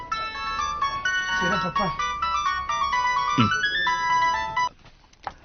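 A mobile phone ringtone plays a bright, repeating melody for about four and a half seconds before cutting off, with a person speaking briefly over it in a home setting.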